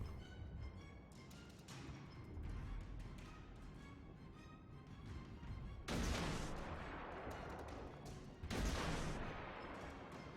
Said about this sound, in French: Boum, encore deux tirs hors solution.